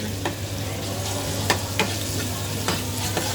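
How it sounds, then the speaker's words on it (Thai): Minced pork stir-fries in a hot pan with a steady close sizzle, while a utensil scrapes and clacks against the pan every second or so. "ผัดหมูให้มันสุกก่อน"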